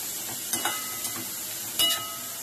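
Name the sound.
finely chopped onion frying on high flame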